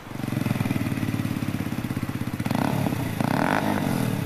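A Hero 125 motorcycle engine runs steadily at close range with a loud, rhythmic thumping idle, then revs up briefly twice near the end.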